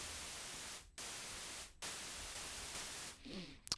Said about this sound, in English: White noise on the oscillator.